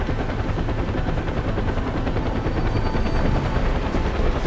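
In the video game Far Cry 4, a helicopter thumps overhead amid bursts of rapid gunfire, forming a dense, loud, unbroken wash of rotor beat and shots with no talk over it.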